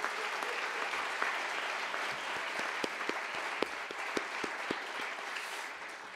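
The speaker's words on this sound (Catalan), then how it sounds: "Un fort aplaudiment per ella" A gala audience breaks into steady, dense clapping that fills the room for several seconds with a few sharper claps standing out near the front, without voices.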